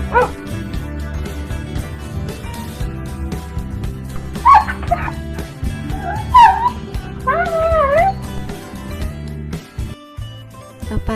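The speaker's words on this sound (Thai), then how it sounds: "มาฟังเสียงของสุนัขกกันนะ" A dog yips and whimpers in short, high-pitched bursts over steady background music, with a few sharper barks in the middle.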